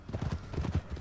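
Horse hooves in Red Dead Redemption 2 clop in a rapid, muffled galloping rhythm, close and fairly loud, with no voices over them.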